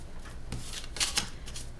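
Tarot cards shuffled by hand, a soft papery riffle with a few sharper card slaps near the middle, close and fairly quiet with no talking.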